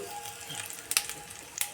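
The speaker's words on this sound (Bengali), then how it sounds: "লবঙ্গ, দারচিনি আমি ফোড়নে দিয়ে দিলাম।" Whole spices such as cloves and cinnamon with dry chilli sizzling in a little hot oil for tempering, a soft steady frying hiss close by with a couple of sharp spitting pops.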